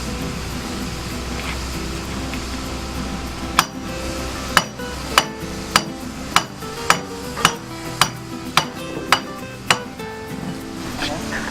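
Sharp metallic hammer strikes ring out about every half second, a dozen evenly spaced blows over a low mechanical hum, as a cutlass bearing is hammered out of a boat's propeller shaft housing.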